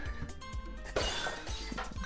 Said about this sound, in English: You know what that sound of shattered glass means?